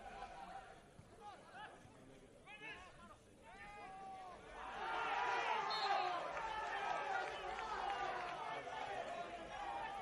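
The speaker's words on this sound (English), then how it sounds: "Crowd in voice again." Football crowd at an Adelaide Croatia Raiders versus Adelaide City soccer match, voices and chatter swelling from a murmur into a loud sustained roar about halfway through, with a commentator speaking early on.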